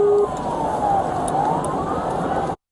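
A police car siren wails in a steady rising and falling sweep, loud and close, with engine and road noise under it and no one speaking.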